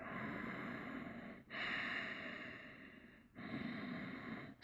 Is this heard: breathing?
yes